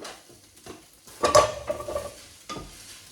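Pasta tipped into a pan of fried pancetta and garlic for carbonara, a soft clatter then a wet sizzling burst as it lands, followed by a few close stirring scrapes and utensil knocks.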